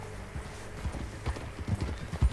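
Horse hooves clip-clop in Red Dead Redemption 2 at an easy walking pace, soft, uneven thuds close by over a quiet outdoor background.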